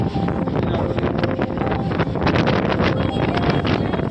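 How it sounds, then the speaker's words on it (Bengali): Steady, loud seaside wind near a lighthouse at Puri buffets the microphone throughout, a dense roaring rush with gusty surges and no clear break. "এত হাওয়া, তাই না?"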